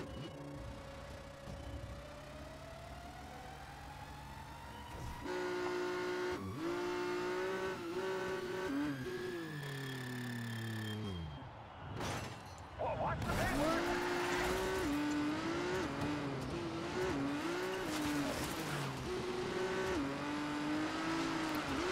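A car in the racing game Trackmania Turbo drives with a continuous engine drone whose pitch climbs steadily as it revs and accelerates. The engine briefly cuts out near the middle, then returns loud and steady.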